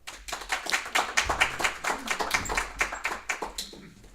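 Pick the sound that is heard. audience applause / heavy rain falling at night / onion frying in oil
audience applause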